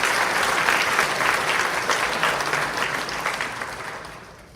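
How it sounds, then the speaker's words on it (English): A gala audience gives a round of applause, a full room of steady clapping that holds strong and then gradually tapers off toward the end. "I want to give y'all all a round of applause."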